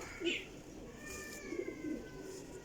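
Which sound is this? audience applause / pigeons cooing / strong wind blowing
pigeons cooing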